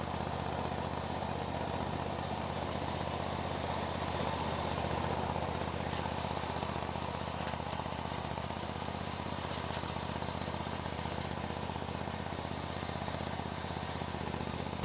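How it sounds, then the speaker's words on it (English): A lawn mower engine drones steadily while mowing a short strip of grass near a fence line, a constant mid-pitched hum at moderate distance with no voices over it. "she's gonna come down here real quick and just mow this one little strip"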